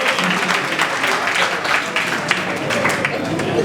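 At the closing ceremony of a national police music holiday camp, an audience of children and adults bursts into loud, continuous clapping with a murmur of voices underneath.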